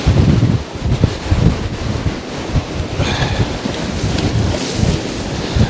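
Strong storm wind during Storm Bert at Poole Harbour, roaring and buffeting the microphone in heavy gusts, with surging surf-like rumble underneath and no talking.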